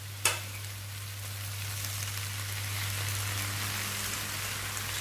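Vegetables, sweet corn and chicken in a stir fry pan sizzle steadily after soy sauce goes in, a continuous dense crackling hiss that starts with a sharp clink and stays even, with no talk.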